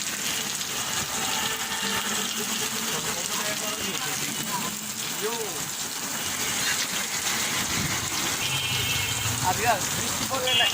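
Steady rain falling outdoors during a spell of frequent rainfall, a continuous hiss of drops hitting surfaces, moderately loud throughout, with someone talking over it at times.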